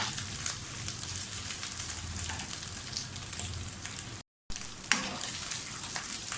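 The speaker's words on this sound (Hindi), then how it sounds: "ग्रीन चिलीज़ ले लें। थोड़ा सा सौते करें।" Green chillies sautéing in a hot pan give a soft, steady crackling sizzle that holds throughout, close and fairly quiet, with one short dropout partway through.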